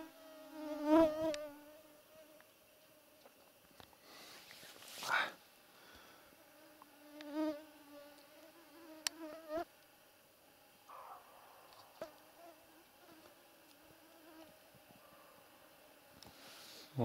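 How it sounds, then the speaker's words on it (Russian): Mosquitoes whine close to the ear outdoors during a roe deer hunt, thin buzzing tones that swell and fade as insects fly past, with several nearby passes and long quiet gaps between them in a still setting. "у меня опять комары прилетели"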